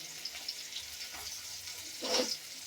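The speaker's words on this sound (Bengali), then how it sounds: "পেঁয়াজ কুচি দিয়ে দিলাম এখানে কাঁচামরিচ দিয়ে দিব" Chopped onion and green chilies fry softly in a pan, with a faint steady sizzle and a brief louder burst of crackling toward the end.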